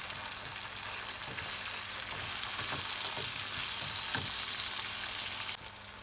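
Peppers fry in a pan, a dense, steady sizzle with occasional stirring scrapes, close and continuous.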